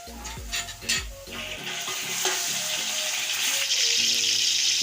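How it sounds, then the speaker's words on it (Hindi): Chicken frying with browned onions and masala for aloo chicken pulao, a few clanks and stirring scrapes at first, then a steady sizzle that swells louder toward the end. "चिकन प्याज के साथ फ्राई करूंगी"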